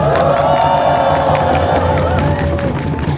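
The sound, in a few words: audience applauding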